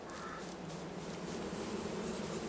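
Bees in a farm apiary in Farming Simulator 22, a steady soft buzzing drone continuing evenly throughout, fairly faint and alone.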